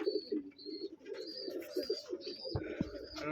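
Soft, low cooing from pigeons in a home loft after a flood rolls on in steady repeated phrases, fairly faint, with a few light chirps and a sharper knock near the end.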